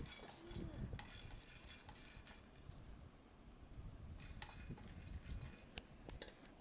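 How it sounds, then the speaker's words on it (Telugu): Peanuts dry-roasting in a kadai, a steady gritty rattle and scrape as they are stirred, with occasional light metallic clinks of the ladle against the pan, close and continuous without talk. "ఒక కప్పు పల్లీలు తీసుకుని బాగా దోరగా వేయించుకోవాలి"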